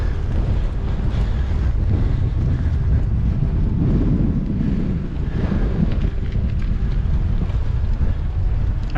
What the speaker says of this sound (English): there's a bloody strong northeasterly wind